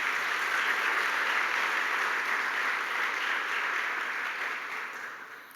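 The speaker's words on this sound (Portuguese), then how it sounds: "Se você crer na sua oração, aplauda bem forte o nome de Jesus" A church congregation applauds strongly in a steady, dense wash of clapping that holds evenly, then fades away toward the end, with no talk over it.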